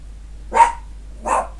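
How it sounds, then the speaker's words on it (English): Two sharp barks from dogs at a house, spaced about half a second apart, fairly close and loud against a quiet background with no talking. "You dogs."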